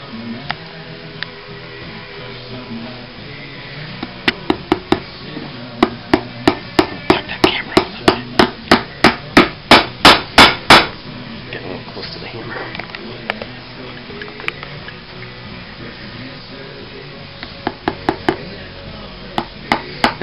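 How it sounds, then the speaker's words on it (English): Hammer blows driving nails into the heel of a cowboy boot under repair, a rapid run of sharp, close taps that speeds up and grows louder before stopping, with a few scattered strikes afterward. "Now, as I nail this down"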